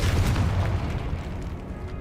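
A Confringo fire-blast spell explodes in Hogwarts Legacy with a loud, heavy boom, its low rumble rolling on and fading over about two seconds, with no voices.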